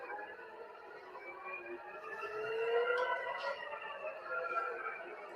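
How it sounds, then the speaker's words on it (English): Wailing sirens rise and fall steadily in the distance, layered over one another, with faint ambient noise beneath. "you got the sirens going off"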